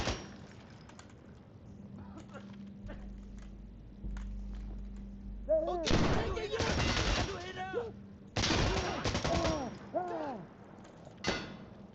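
In a match of the video game Insurgency Sandstorm, several loud, close rifle bursts crack out in two main volleys with ringing echoes. Shorter shots, footsteps and clanks come between them, and a voice speaks briefly.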